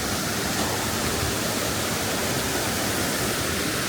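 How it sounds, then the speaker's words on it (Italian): The tallest waterfall in Calabria, at Marmarico, roars in a steady, dense, full-range rush of falling water, loud and unbroken throughout with no voices. "siamo arrivati finalmente alle cascate"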